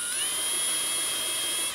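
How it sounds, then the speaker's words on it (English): A power drill pre-drilling a screw hole in a wooden door jamb, a steady high whine held nearly two seconds, close and loud, no speech. "So it's very important that you go ahead and pre-drill the hole here."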